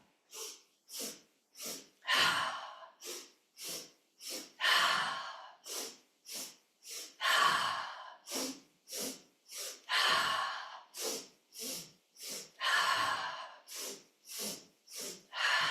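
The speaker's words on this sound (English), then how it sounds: "Inhale, inhale, inhale, exhale." Rhythmic breathing exercise with repeated sharp nasal inhales in quick runs, each series followed by a longer, fuller exhale. The cycle repeats steadily and close up, with no talking.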